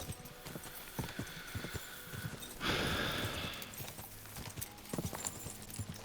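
Horse hooves clip-clopping in the video game Kingdom Come: Deliverance II, a steady walking rhythm of distinct near hoof strikes, with a brief snort or whinny partway through and occasional faint ambient sound.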